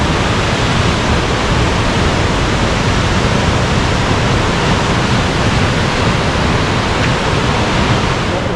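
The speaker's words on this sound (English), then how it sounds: "Waterfall literally sounds like a tornado." A roaring waterfall beside a mountain trail on Lookout Mountain, swollen with heavy water flow, gives a loud, steady, unbroken rush that fills the whole clip with no voices over it.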